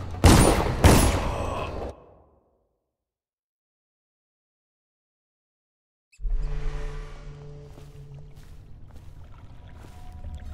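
Guards fire guns in the stealth game Dishonored, a loud dense burst of gunfire for about two seconds, then silence, then a lower rumbling stretch of ambient noise.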